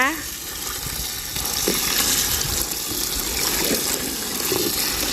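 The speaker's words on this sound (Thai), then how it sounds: "ล้างหลายๆน้ำเลยนะคะ" Chinda chilies being washed in water, with steady splashing and rinsing close by, mixed with broadband hiss and occasional light knocks throughout.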